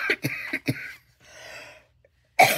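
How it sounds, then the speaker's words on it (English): A person indoors gives several sharp, close coughs in quick succession, followed by a softer raspy breath and one more harsh cough at the end. "I'm coughing and hacking."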